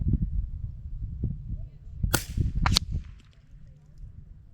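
Gunshots strike a splat target at an outdoor shooting range: two sharp cracks a fraction of a second apart, loud and close, over a low rumbling background.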